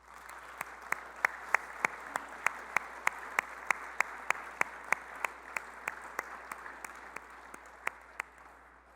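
A church congregation claps in unison, sharp rhythmic beats roughly three per second over a low hum, loud and steady with no talking.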